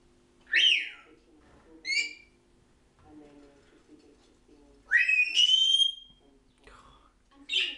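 A Senegal parrot gives loud, piercing rising whistles in short separate bursts with quiet gaps between, including a longer double call midway, sounding close by indoors.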